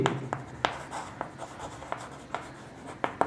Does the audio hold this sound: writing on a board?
yes